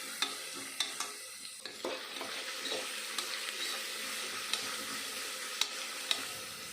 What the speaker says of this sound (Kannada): ರಾತ್ರಿನೇ ನೆನೆಸಿ ಇಟ್ಕೊಂಡಿರೋ ಬಟಾಣಿ ಹಾಕಿ ಫ್ರೈ ಮಾಡ್ಕೊಬೇಕಾಗುತ್ತೆ.